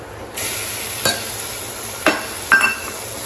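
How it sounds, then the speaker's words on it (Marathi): A loud, steady sizzle of prawns hitting hot oil, punctuated by several sharp clinks and scrapes of a utensil against the pan. "ह्याच्यामध्ये आपली प्रॉन्स कोलंबी ॲड करूया"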